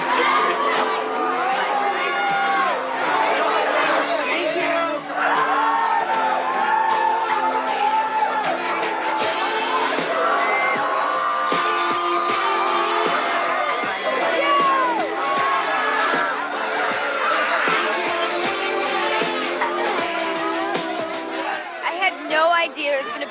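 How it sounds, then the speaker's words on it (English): A crowd of excited fans screams and cheers in the rain at a 2003 appearance by a singer, loud continuous shouting, whoops and chatter with voices close by throughout. "there's crazy fans, and everyone's screaming my name"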